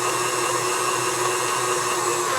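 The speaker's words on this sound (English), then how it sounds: "So I'm going to cut off the mixer, and I'm going to check the batter to make sure everything is mixed up." An electric mixer beating rum cake batter gives a steady, loud, close motor whine and whir that holds constant throughout without pause.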